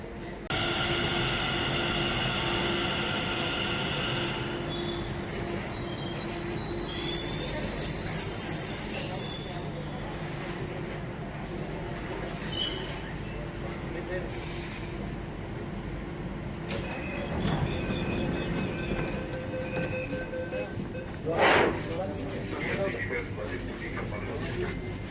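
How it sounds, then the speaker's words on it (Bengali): A metro train pulls into a station: a rolling rumble builds and then falls away, with brief high wheel squeals and a louder surge midway, while people talk over the platform noise. "মেট্রো আসবে।"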